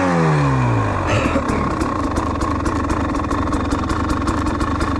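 A GasGas EC300 two-stroke dirt bike engine running, starting with a rising rev that settles into a steady, loud, close idle with a rapid crackling pulse throughout.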